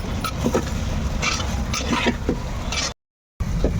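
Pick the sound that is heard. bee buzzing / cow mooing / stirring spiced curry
stirring spiced curry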